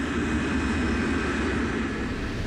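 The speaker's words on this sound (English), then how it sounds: "Captain Van Zanten accelerates the KLM jumbo down the runway" A KLM Boeing 747 jumbo jet roars as it accelerates down the runway, a dense, steady engine rumble with broad hiss, loud and unbroken throughout.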